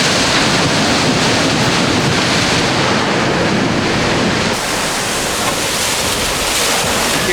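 Water released from a 250-gallon dump tank for a film stunt makes a loud, continuous roaring rush, like surf or a waterfall, that stays steady and close and eases slightly partway through.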